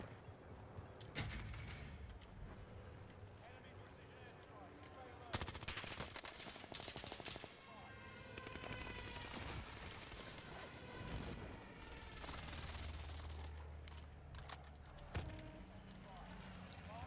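Sustained machine-gun fire and shots in the video game Warzone on Rebirth Island, dense and continuous with loud bursts throughout, and a voice talking over it.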